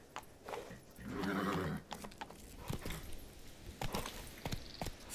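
The horse Roach in The Witcher 3: Wild Hunt moves along with soft, uneven hoof thuds and clip-clops. A brief snort or whinny rises in the middle. The sound is faint and fairly close, with no talking.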